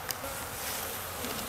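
Honey bees buzz in a sunny bee yard, a close, continuous insect drone that holds steady at moderate loudness over a brief moment, with no voices.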